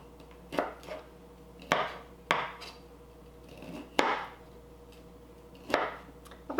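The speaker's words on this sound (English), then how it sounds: "now we're just gonna chop up some broccoli" Broccoli being chopped with a knife on a cutting board, about six crisp thuds spaced irregularly roughly a second apart, each with a short rustle of florets, close and alone.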